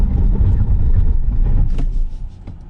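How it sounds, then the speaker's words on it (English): A Tesla Model S Plaid brakes hard from speed, a loud low rumble of road and wind noise fading as the car slows, with a few faint clicks near the end. "now we'll do a bit of a brake test"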